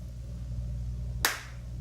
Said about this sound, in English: I'll clap and do a countdown because it's been a bit.